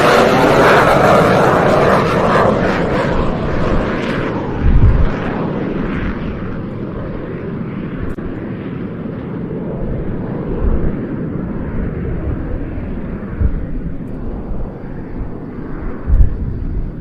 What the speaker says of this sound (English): the next Typhoon already taking to the runway, this one being a Typhoon T3, a twin-seater from 41 Squadron